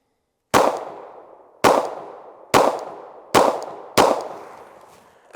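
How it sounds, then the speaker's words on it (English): Five sharp Glock pistol shots fired at a target outdoors on an overcast day in Ohio, each a loud crack with a short decaying tail, spaced roughly a second apart. "So let's get our first shots."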